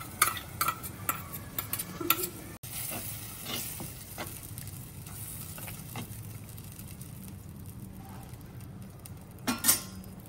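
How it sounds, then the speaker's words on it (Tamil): Ground masala paste going into cooked-down tomato in a pan and being stirred, scattered close scrapes, taps and clicks of a spoon against the pan over a soft background, no talking. "இப்போ நம்ம அரைச்சி வச்ச மசாலாவை அதில் ஆட் பண்ணிடலாம்"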